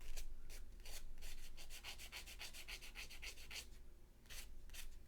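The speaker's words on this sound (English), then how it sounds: "sanding block or sanding pad" Steady back-and-forth scratchy rubbing of 1000 or 2000 grit sandpaper on a sanding block or pad, smoothing a pendant; a continuous hiss with quick repeated strokes, close and fairly quiet, no voices.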